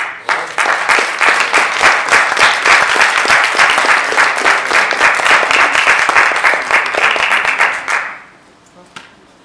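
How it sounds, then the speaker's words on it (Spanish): An audience at a talk on dactyloscopy breaks into steady applause, dense and loud for about eight seconds, then fades quickly to near silence with a stray clap. "Previo a eso, un aplauso."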